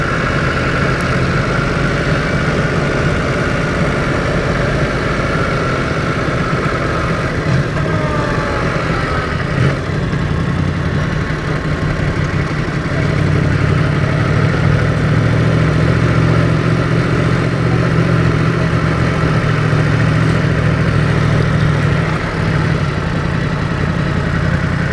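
A Yamaha MT-10 motorcycle engine runs steadily with a deep continuous drone and rumble while riding near Shelley Beach, Caloundra. Wind and road noise mix in, and the engine swells slightly midway.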